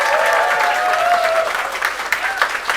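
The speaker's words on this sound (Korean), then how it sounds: "박수해 주십시오." A church congregation claps during a Sunday service for youth-ministry teachers and student worship-team singers, steady broadband applause running throughout, fading slightly toward the end, with a sustained tone and scattered voices underneath.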